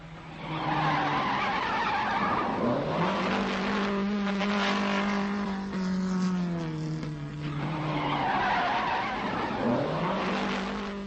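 A rally car races on the 1978 Danube Rally, its engine roaring loud and close with rising and falling revs as it accelerates and shifts, tyres scrabbling through the sustained run.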